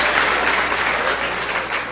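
Dense, even applause from a lecture audience, a continuous wash of clapping with no pauses, fairly loud and close throughout.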